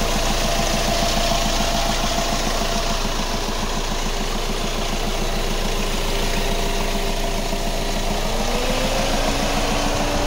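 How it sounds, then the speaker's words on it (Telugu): A 2018 Hyundai Creta 1.6 SX diesel engine idling, heard up close as a loud, steady rhythmic clatter and hum that holds even throughout, with a slight pitch shift near the end. "చూడండి ఇంజన్ సౌండ్ నాయిస్ బాగుంది."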